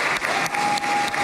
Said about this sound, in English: getting a big applause as he walked into the Knesset